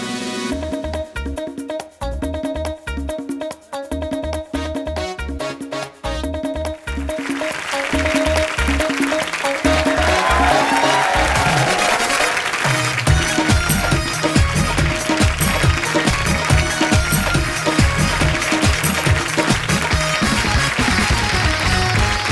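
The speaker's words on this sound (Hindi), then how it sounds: "आप सबकी जोरदार तालियों के बीच स्वागत करना चाहूंगा" A studio audience on The Kapil Sharma Show applauds loudly to welcome Kartik Aaryan, the dense clapping swelling in over upbeat music and carrying on steadily to the end.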